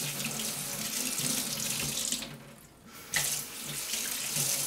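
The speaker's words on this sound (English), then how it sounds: "I'm just going to give it a quick rinse out." Tap water gushes steadily into a container used for washing oily drills, with a brief dip in the flow midway before it runs strongly again.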